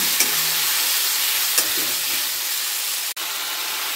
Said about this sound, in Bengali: ভালোভাবে নেড়ে যেতে হবে, কেননা তলায় মশলাপাতি ধরে যেতে পারে। ভালোভাবে কষিয়ে যেতে হবে মশলাটাকে।